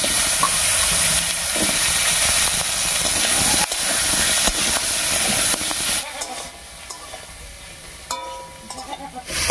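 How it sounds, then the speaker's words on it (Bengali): Potato, papaya and carrot pieces fry in hot oil left from frying lentil dumplings, a loud steady close sizzle and hiss that later thins into lighter crackling as the vegetables settle. "এবার এই বড়ি ভাজার তেলের মধ্যে সবজিগুলো ভেজে নেব।"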